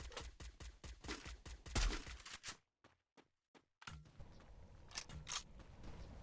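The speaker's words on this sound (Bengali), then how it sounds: "ওইদিকে প্লেয়ার ছিল তাই আমি ফায়ার করতে থাকি" Rapid gunfire from the Free Fire battle royale game, a fast run of sharp shots, a brief silent gap with a few isolated single shots, then more scattered bursts of firing.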